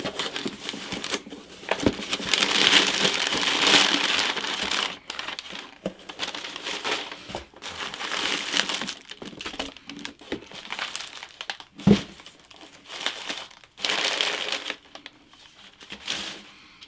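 Paper packaging from a comic book order is crumpled and crinkled by hand in loud, irregular bursts with short pauses in between.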